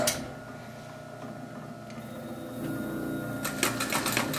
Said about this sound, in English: So you would just Turn the machine on. This is going to be loud.